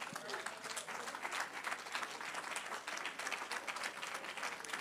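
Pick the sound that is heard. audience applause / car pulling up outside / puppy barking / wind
audience applause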